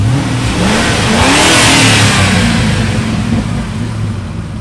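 Engine of a bare-bones Ford F250 work truck revving loudly and steadily close by, a continuous rising and falling roar with no talk over it.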